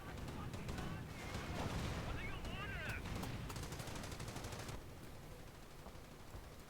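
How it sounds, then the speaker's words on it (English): Gunfire in the Company of Heroes video game crackles as sustained machine-gun bursts and distant rapid shots for several seconds, with a game voice speaking over it, before it drops away to a quieter rumble. "Base is under enemy fire."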